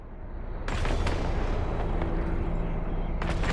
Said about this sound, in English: both of our cannons are now locked on and engaged.